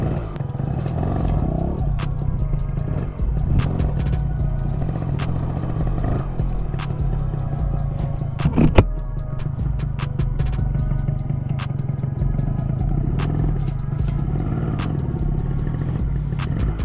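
A Kawasaki AR80 Magnum two-stroke motorcycle with a Keihin 24mm carburetor on stock jetting runs close and steady at idle, a dense buzzing drone with rapid ticking and a brief clatter midway, no talk.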